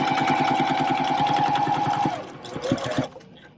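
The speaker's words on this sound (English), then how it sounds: "and then I start sewing" A sewing machine stitches Dresden quilt pieces, a close rapid rhythmic chatter of the needle running steadily for about two seconds before slowing to a few separate thumps and stopping.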